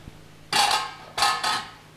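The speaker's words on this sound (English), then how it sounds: "I'm going to clatter his dish." A cat's food dish clattered against a hard surface in two separate bursts, each a quick jumble of ringing metallic rattles, close and fairly loud with no voices.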